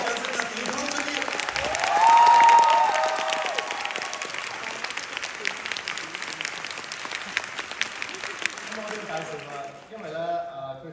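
Audience applause for a stage actor in a theatre, a sustained wave of clapping that swells early, then continues steadily before tapering off, with cheering and a voice heard over it.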